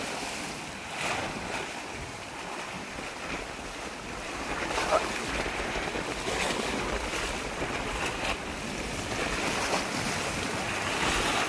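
Strong waves on a river roll and break in a constant broadband wash, swelling in slow surges while wind rumbles across the microphone close by.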